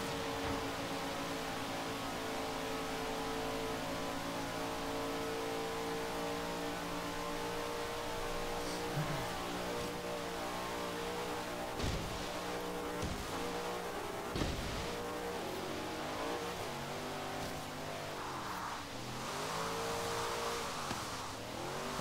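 Hot rod engine in Forza Horizon 3 with Hot Wheels content, racing at a steady drone with shifting pitch, brief bursts and clicks later on, no talk.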